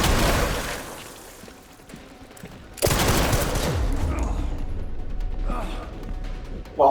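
Gunfire in the video game Resident Evil Requiem: dense, loud bursts of rapid shots with mechanical clatter, rising sharply partway through and continuing in heavy volleys.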